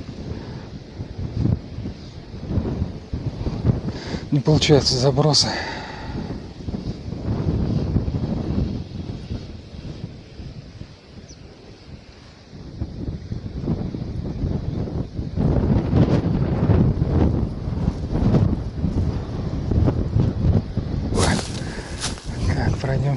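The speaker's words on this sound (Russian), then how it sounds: "С таким ветром не получается." Strong wind buffets the microphone on a grassy riverbank during spinning-rod fishing from shore, gusting in rough, rumbling surges while someone talks throughout.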